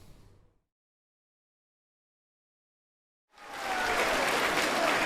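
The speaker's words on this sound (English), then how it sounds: "the fans clapping in the background" Football fans clapping at an Oxford United v Bury match, broad sustained applause swelling up after a stretch of silence and holding steady, heard from within the stadium.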